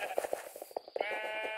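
Sheep bleating in the video game Minecraft, a quick run of short, close, wavering bleats that overlap into a sustained tone near the end.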